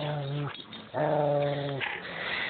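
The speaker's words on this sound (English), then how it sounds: "Oh, they're both growling now." A dog growls in two sustained, rumbling bursts separated by a short pause, close and fairly loud, with no talking.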